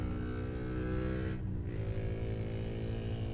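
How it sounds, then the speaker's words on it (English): A loud motorcycle roars past on a city street with a constant, dense engine drone, dipping briefly as it passes and then carrying on at full volume, with no voices. "that is one loud motorcycle."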